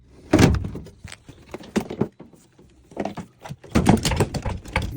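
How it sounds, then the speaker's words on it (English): Sheet-metal doors of a Trane furnace are fitted back on, giving several loud clunks and rattling bangs in irregular bursts with quiet gaps between, close by. "Now all I gotta do is put the doors on and see if it runs."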